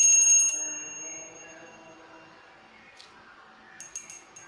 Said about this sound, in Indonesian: saya akan melanjutkan hasil kartu ramalan ini ditandai dengan lonceng berbunyi